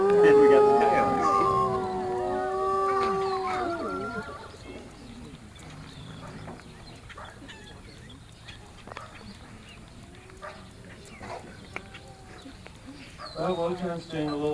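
Coyotes at Wolf Park let out a burst of high, wavering yips and howls that fade after a few seconds, then yelp again briefly near the end, with quiet outdoor background between.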